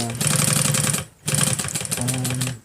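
A sewing machine topstitches a back pocket on jeans in two fast, loud bursts of rapid needle clatter, split by a short pause as the fabric is pivoted.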